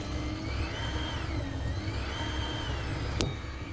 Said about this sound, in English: You hear the pump.